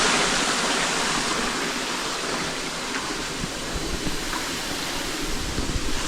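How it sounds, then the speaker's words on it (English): Rushing water from a jungle waterfall pours in a constant, full roar, close by and steady, with a slight swell in loudness toward the end. "Water."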